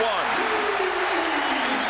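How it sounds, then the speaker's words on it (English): An arena crowd at an NBA game between the 76ers and the Kings cheers and applauds in a steady, dense roar, with a commentator talking over it throughout. "Finally, some excitement from this crowd."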